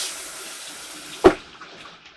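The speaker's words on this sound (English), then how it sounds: "All the way down will flush." A 2022 Forest River Salem Cruise Lite 19DBXL RV toilet flushes when its pedestal pedal is pressed all the way down, giving a short, close rush of water against a quiet background.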